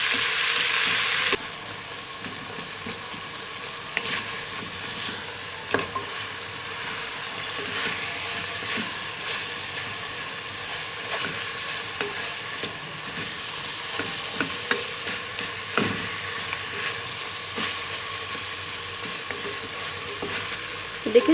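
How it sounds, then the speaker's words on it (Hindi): Chicken frying in a pot for chicken soup, a low, steady sizzle running throughout with occasional scrapes and clicks of stirring, after a brief louder hiss at the start. "अब हमने इसको इतना फ्राई कर लेना है कि चिकन का कलर चेंज हो जाए"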